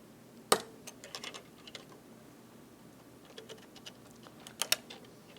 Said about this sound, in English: So we'll cut the base out from its sprue.